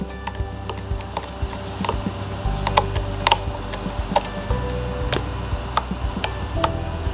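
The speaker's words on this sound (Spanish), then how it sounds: "suspendemos el machete y procederemos a ajustar la cadena" Chain being fitted and tensioned on the bar of a Makita chainsaw, heard as a close series of sharp metallic clicks and ratcheting ticks over a low mechanical hum, with no talk.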